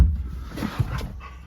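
Dog in the back of a car making short panting and whimpering sounds, close and fairly loud over a low vehicle rumble, with small yips breaking through.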